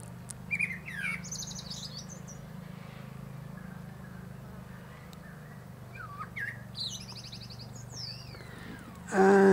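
Birds chirp and trill among newly planted acacia trees, bright bursts of tweets coming at the start and again near the end over a low, steady outdoor rumble.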